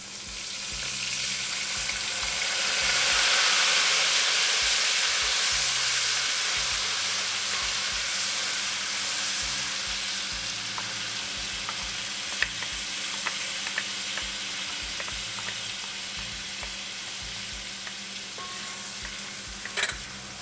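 Garlic sizzles in a hot kadai, a steady bright frying hiss that swells early and then holds, with faint clicks of stirring and no voices.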